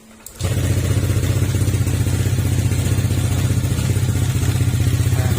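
A Honda Click 150 scooter engine with a misfire and knocking fault starts and settles into a loud, steady idle with a rough, throbbing low rumble that continues without pause.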